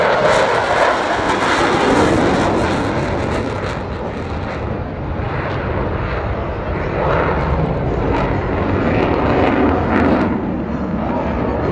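An Embraer military jet at an air show, a continuous loud broadband engine roar sweeping past with rising and falling intensity, no speech over it.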